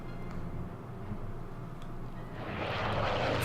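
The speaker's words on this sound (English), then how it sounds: "Fighter attacks my recon plane." Fighter plane engine roars over a reconnaissance aircraft in a World War II strategy game set near Kharkov in 1942, a steady droning hum that swells louder toward the end.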